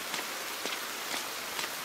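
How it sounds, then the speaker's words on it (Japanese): Steady rain falls in the horror game Jigoku Sento RE, a dense hiss of drops on a surface with a few faint soft taps, continuous and without speech. "雨か。"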